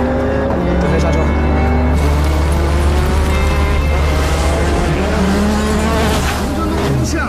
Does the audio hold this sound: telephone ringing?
no